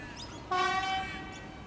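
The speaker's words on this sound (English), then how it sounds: "It'll head very slowly over the tram square." A Melbourne suburban train near Riversdale station, about to cross slowly over the tram square, sounds a single brief horn blast of roughly half a second, fairly clear over a low steady rumble, with no talk.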